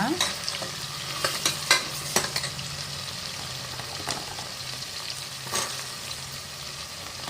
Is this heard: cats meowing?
no